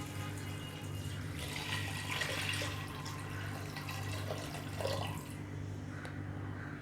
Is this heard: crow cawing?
no